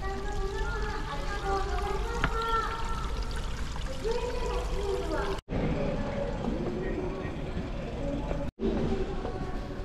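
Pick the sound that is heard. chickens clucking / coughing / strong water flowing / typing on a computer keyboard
strong water flowing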